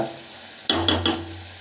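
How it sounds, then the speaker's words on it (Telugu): Wheat flour snack dropped into hot oil, a few quick splashing stirs followed by a soft, steady sizzle of frying, close by. "జస్ట్ ఒక టూ మినిట్స్ ఫ్రై చేస్తే సరిపోతుంది ఎక్కువగా ఫ్రై చేయాల్సిన అవసరం లేదు"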